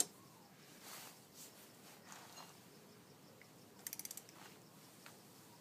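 A torque wrench tightening a bolt to 35 foot-pounds gives a faint quick ratcheting of about six clicks near the end, preceded by soft scattered mechanical rustles, close but quiet.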